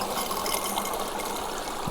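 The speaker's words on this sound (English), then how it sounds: "Pushes the water through the filter, removing all the contaminants and everything that's bad and not good for you" Water is forced through the filter of a squeeze-style water bottle, producing a steady hissing, gurgling trickle, close and fairly faint, continuous over the short span without any talking.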